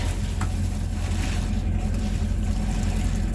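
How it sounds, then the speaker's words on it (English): Running car engine with a serious leak: a steady low rumble under a continuous broadband hiss, constant in level throughout with no pauses. "I hear a serious leak"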